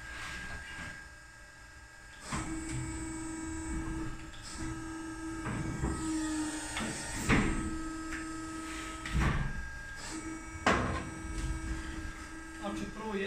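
A sheet-metal pipe-making machine runs in a workshop with a steady hum, broken by repeated sharp metallic clanks and bangs at irregular intervals, with people talking nearby.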